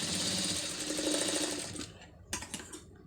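A sewing machine runs steadily, stitching a cross piece onto piping fabric. The whirring stops after about two seconds and a few light mechanical clicks follow.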